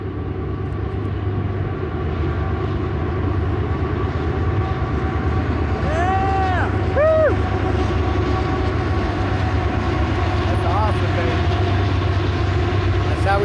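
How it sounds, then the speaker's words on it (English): A train rumbles past steadily and loudly, with a couple of horn-like tones sounding partway through over the continuous roar. "as luck would have it, we got a train coming by"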